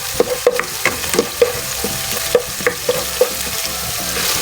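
Food frying in a pan with salt and pepper is stirred in a series of scraping clinks and knocks, roughly eight sharp strokes over a steady sizzle close by, with no talk.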